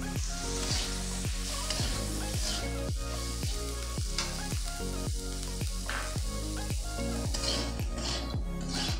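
Banana blossom and boiled chickpeas sizzle steadily in a frying pan for a Bengali mochar ghonto, a continuous hiss running under rhythmic, beat-driven background music.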